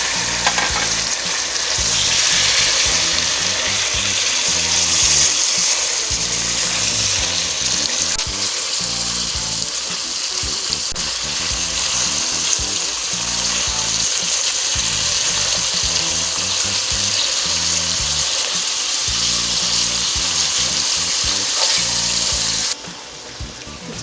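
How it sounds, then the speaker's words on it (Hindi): Chicken pieces frying in hot ghee with onion and garlic, a steady loud sizzle with stirring and scraping throughout, close and continuous with no talking. "अब इसमें हम चिकन डाल के फ्राई करेंगे।"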